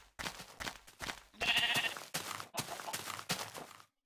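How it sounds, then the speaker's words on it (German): A brown sheep in Minecraft gives one clear bleat, with short bursts of other game sounds before and after it. "Hallo braunes Schaf."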